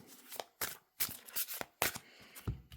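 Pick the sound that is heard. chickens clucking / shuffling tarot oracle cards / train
shuffling tarot oracle cards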